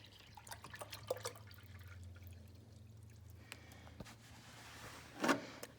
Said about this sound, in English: I'm going to pour 1 quart of water in here.